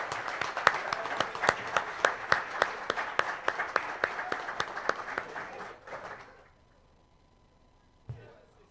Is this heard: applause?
yes